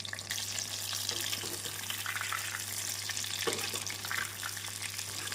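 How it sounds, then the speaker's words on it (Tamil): Marinated mushrooms deep fry in oil on a high flame for mushroom 65, a continuous, fairly faint bubbling sizzle with soft crackles and no voices. "நாம் காளானை எண்ணெயில் போட்டவுடன் ஹை ஃப்ளேமில் வைத்து கொள்ள வேண்டும்."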